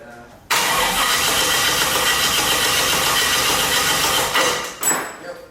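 Turbocharged LS-swapped Infiniti G35 engine bursting into life and settling into a loud, rough, choppy idle close by, then dropping off near the end, with a voice faintly in the background.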